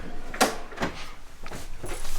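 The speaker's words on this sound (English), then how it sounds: "And look at all the drawers you have here on the side too." Drawers sliding open and shut along the side of a 2023 Keystone Cougar 33RLI RV trailer, several close, muffled thumps and scrapes spaced a moment apart.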